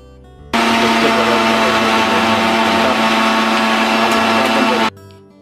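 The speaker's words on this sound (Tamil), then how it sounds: "கூட பூண்டு, தோல் உரிச்ச பூண்டு ஒரு 5 நம்பர் அதை உள்ளே சேர்த்து நம்ம அரைக்க போகிறோம்." A kitchen blender grinds egg, pepper and garlic into homemade mayonnaise with a loud, steady whirring roar that starts abruptly, runs for about four seconds and then cuts off.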